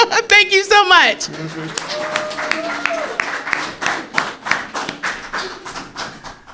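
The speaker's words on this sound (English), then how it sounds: "I give them a round of applause for the work that they continue to do" Audience applause for award winners at the 2025 Rosa Parks and John Lewis Awards, steady clapping from a crowd that starts after a brief musical tone and carries on under a voice speaking over it.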